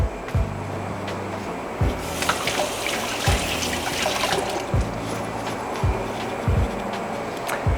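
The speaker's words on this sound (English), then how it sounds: "Let me give my hands a quick rinse before I cut that onion." Tap water runs steadily as hands are rinsed under it before cutting an onion, a close, continuous splashing stream with a few brief louder splashes and no talking.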